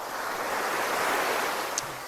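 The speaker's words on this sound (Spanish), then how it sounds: "Dormir con el sonido de las olas a 20 metros es algo indescriptible." Sea waves on the Asturias coast wash in as a continuous broad roar of surf, with wind noise brushing the microphone and no voices.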